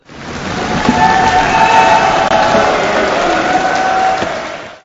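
Parliamentary MPs and allied party leaders stand applauding and cheering for Modi, a dense, steady wash of clapping and crowd noise filling the whole stretch at close range.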